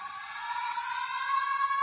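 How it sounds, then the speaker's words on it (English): An air raid siren played back through an MP3 player recorder fitted inside a 180-watt power supply, holding a steady wailing tone rich in harmonics that climbs slightly in pitch, heard alone at moderate loudness. "the air raid siren going off"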